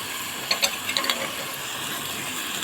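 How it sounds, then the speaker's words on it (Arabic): Plain white rice stirred in a pot, a spoon scraping and tapping a few times against the metal over a steady sizzling hiss, close by with no speech. "هنقلبه كده عشان يطلع رز مفلفل بقى كده"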